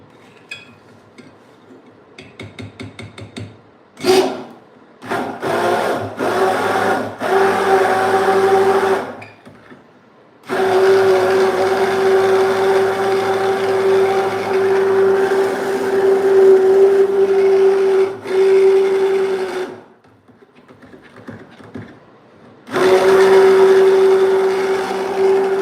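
A blender whirs through soap batter in several runs. A steady, loud motor whine cuts off and restarts a few times, with short quiet gaps between the runs.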